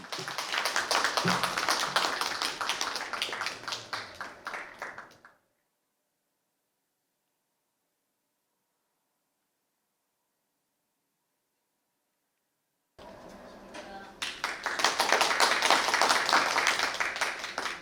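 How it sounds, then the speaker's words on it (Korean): Close, brisk applause at an academic conference rings out for a few seconds, then cuts to silence before a second burst of clapping starts up and grows louder. "큰 박수 부탁드립니다"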